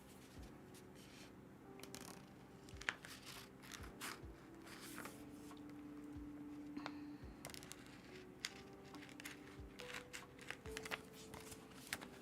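Heat transfer vinyl design being cut apart with scissors, a quiet run of soft snips and scrapes with light crinkling at close range, alone with no talk.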